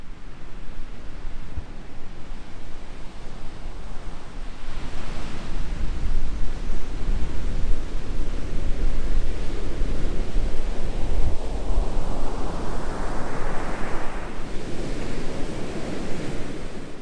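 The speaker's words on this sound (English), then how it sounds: "Big ol' waves crashing here." Big ocean waves crashing on a beach near Humbug Mountain, a continuous loud roar of surf with swells building and breaking, mixed with wind buffeting the microphone.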